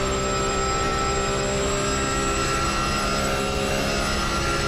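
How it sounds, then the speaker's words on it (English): Porsche race car engine revving hard in the racing game Automobilista 2, a loud, dense, continuous drone that stays steady through the whole stretch with no talk. "Oh, that Porsche sounds good."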